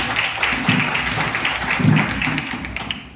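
At an IAS academy's foundation day event, an audience claps in a sustained, even patter of applause, with a few louder thumping claps standing out near the front.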